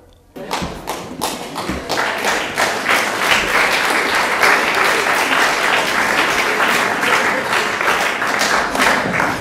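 Sustained audience applause fills an old cinema hall at a school musical, dense steady clapping rising quickly after a soft start and holding loud throughout, with a few louder thumps near the beginning.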